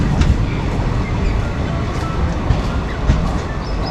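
A train pulls away from Murshidabad station, its steady rumble and faint rhythmic wheel clatter filling the platform, with occasional sharper knocks and no clear talk.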